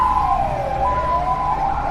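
An ambulance siren wails in a smooth falling-and-rising sweep, loud and continuous with nothing else over it.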